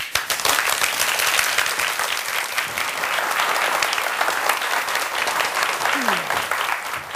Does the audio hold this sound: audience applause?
yes